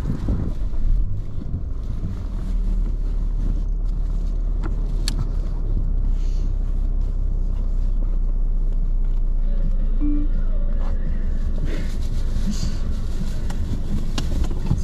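A car drives along a road with a steady low engine and road rumble plus gusty wind noise throughout, and people talk now and then.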